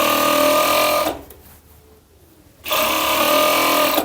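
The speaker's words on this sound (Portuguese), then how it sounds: "Eu costuro só um pedacinho e já vou lá na costura do entrepernas" A sewing machine runs steadily while stitching the crotch seam of a child's long-sleeved pajama, pausing for about a second and a half partway through before resuming at the same close, even pace; no voices are heard.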